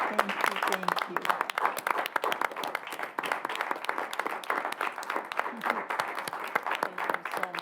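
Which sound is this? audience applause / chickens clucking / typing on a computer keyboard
audience applause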